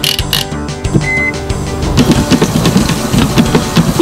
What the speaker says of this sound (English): Let's turn on the washing machine.